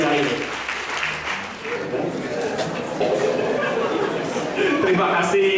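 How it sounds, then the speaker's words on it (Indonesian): Applause and crowd noise at an Indonesian church event, steady clapping mixed with chatter and voices throughout, loud and close. "Berikan tepuk tangan buat Tuhan."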